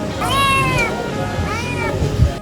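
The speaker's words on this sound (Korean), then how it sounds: "배고픈 고양이." A hungry cat gives two drawn-out, whiny meows close by, the first longer and the second shorter after a brief pause, with faint background noise.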